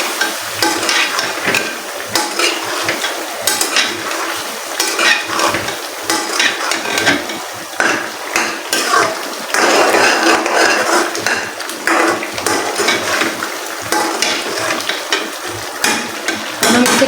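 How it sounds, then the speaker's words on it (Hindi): Smoky yogurt chicken karahi stir-fried in a pan, a dense, steady sizzle with the continual scraping and clinking of a utensil against the metal throughout. "अब 10 मिनट के लिए हम इसकी भुनाई करेंगे।"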